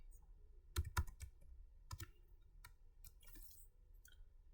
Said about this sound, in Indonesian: Ctrl O, Enter, Ctrl X